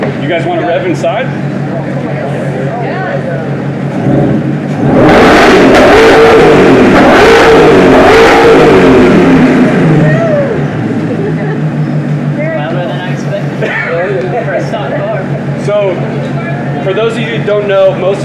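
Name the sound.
Ford Mustang GTD engine revving indoors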